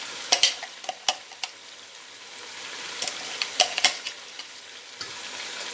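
Ginger garlic paste frying and being stirred in a pan while cooking lobia gosht, with a steady soft sizzle under a series of sharp scraping and clinking strikes of a spoon against the pan, close and fairly quiet.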